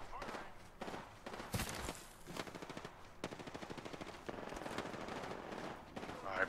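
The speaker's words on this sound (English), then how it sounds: "There's two teams here shooting at each other." Two squads trading gunfire in Apex Legends: rapid automatic bursts and sharp shots rattle close by in repeated volleys, with a player talking over the firefight.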